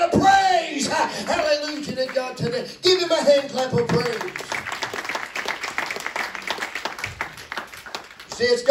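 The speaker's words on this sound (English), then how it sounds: "Give him a hand clap of praise." A church congregation claps in praise during a sermon while a preacher's voice rises over them, the clapping continuing as a thick, even patter under loud, sung speech.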